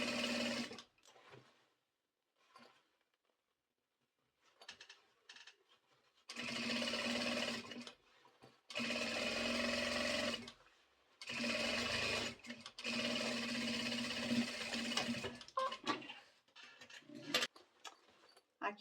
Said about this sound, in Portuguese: E já vem costurando e prendendo ele.